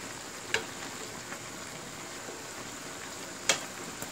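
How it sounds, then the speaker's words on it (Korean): Korean spicy braised chicken in gochujang sauce with vegetables simmers and bubbles softly in a pot. It is stirred from bottom to top, and two sharp utensil knocks stand out against the low continuous sizzle. "아래쪽 국물을 위쪽으로 아래 위로 이렇게 자리를 바꿔가면서 한 번씩 저어줍니다"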